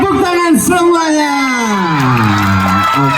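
Children's audience at an elementary school teachers' cabaret about Kartini whoops and shouts in a loud, sustained crowd cheer, with high shrieks and bellowed voices overlapping throughout.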